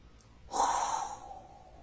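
A single slow, breathy exhale or inhale during a gentle qigong movement, soft and close, swelling then fading away over about a second.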